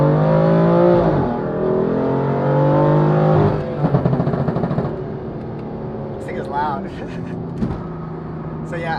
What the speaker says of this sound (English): this car is super loud, but the pop sound freaking amazing